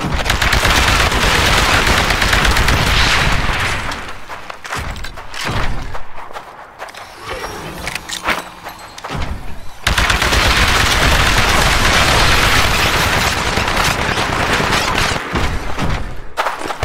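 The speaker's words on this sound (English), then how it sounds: "Destroy the Titan with your anti-Titan weapon." Heavy gunfire from an anti-Titan weapon in the Titanfall video game, dense and loud at first, easing into scattered thuds and mechanical noise, then resuming as sustained loud fire, with no talking.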